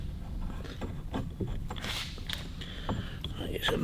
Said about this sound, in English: you get a big socket, force that seal down in there